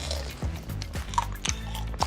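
Crisp bites into an air-fried seed hotteok filled with nuts, heard as several sharp crunches spaced about half a second apart. Each crunch is close and clear over quiet chewing.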